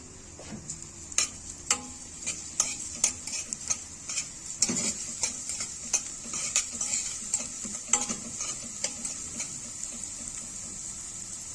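Garlic and dried coriander fry in oil in a pan, giving a soft, steady sizzle broken by repeated light stirring clicks and scrapes, fairly quiet with no talking.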